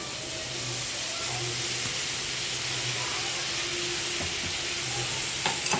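Green leafy vegetables go into a pan of cooked spice masala and fry, giving a continuous close hiss and sizzle with light stirring scrapes throughout.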